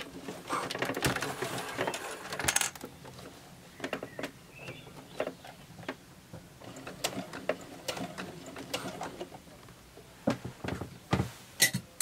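A sewing machine stitches a fabric wallet in irregular bursts of whirring and mechanical ticking, starting in a busier run and then stopping and starting in short spurts, fairly close and with no talking.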